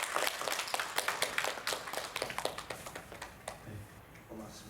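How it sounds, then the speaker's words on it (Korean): Sunday church congregation in a Korean Presbyterian service clapping for welcomed guests, a quick patter of claps that fades out, with a voice speaking briefly near the end. "우리 박수 한번 부탁드리겠습니다"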